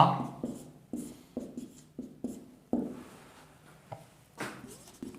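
Chalk or marker writing on a board during a mechanics lecture: a run of short, sharp tapping strokes in an irregular rhythm, close and clear, with no talking.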